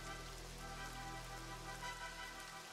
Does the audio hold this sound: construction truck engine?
no